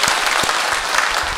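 Parishioners at a Catholic parish assembly after Sunday Mass give a short, loud, thick round of applause from a full room.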